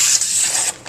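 A Xyron 2500 laminating and mounting machine cuts off a mounted piece with a short, loud, bright hissing slice lasting under a second, close up with no talk.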